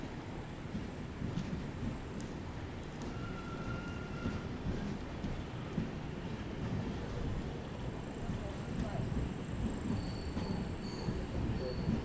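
Mandovi Express train runs on rails between Mumbai and Madgaon, a steady rumbling roll with high, thin wheel squeals threading through it, heard from on board throughout.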